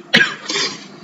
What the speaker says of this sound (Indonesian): mohon maaf ya teman-teman, kalau misalnya saya batuk